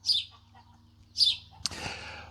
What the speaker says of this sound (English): there's also a chicken just about to lay an egg by the sounds of it.